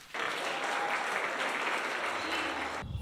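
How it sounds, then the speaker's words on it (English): A crowd at a church cultural dance event gives sustained, even applause as a girls' dance group from a youth center takes the stage, loud and dense throughout before cutting off abruptly near the end. "Please give them a round of applause."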